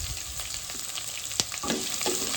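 Chopped onion frying with mustard seeds, lentils, peanuts, chillies and curry leaves in hot oil, a steady close sizzle broken by scraping stirs of a spoon against the pan.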